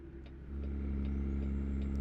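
A heavy truck's Jake brake in American Truck Simulator, a loud steady low engine drone that swells after a brief moment and holds, with a faint whine above it.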